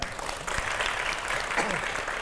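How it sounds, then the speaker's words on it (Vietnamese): An audience claps steadily and energetically, a dense wash of applause that fills the whole clip. "vỗ tay quý vị"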